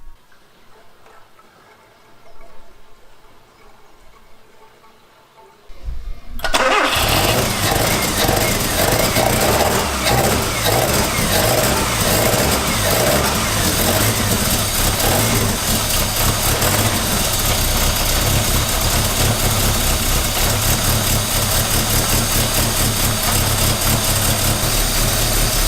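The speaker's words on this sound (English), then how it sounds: "We tested and got the car running. It took ages to fire up." A 1985 Mazda 929 after fuel system work and a fuel leak fix, heard close up: a few seconds of near quiet, then the engine catches and settles into a loud, steady idle with a fast ticking rhythm.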